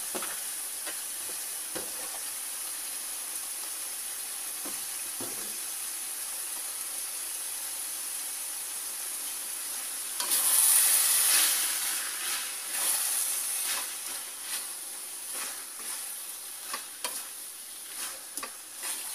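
Sliced spring onions being stirred into a tofu and mushroom filling for grilled pepes, a low rustling and scraping that grows louder midway, then continues as uneven soft stirring strokes.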